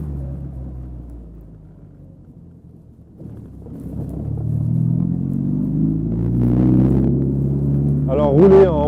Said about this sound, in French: je viens d'actionner l'overdrive pour repasser en quatrième